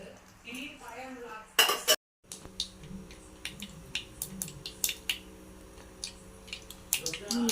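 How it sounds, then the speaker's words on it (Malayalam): Scattered sharp crackles and pops, like mustard seeds spluttering in hot oil, with a clattering burst of utensil noise early on and soft background hum. "കടുക് ഇട്ടിട്ടുണ്ട്. കടുക് പൊട്ടുന്നു."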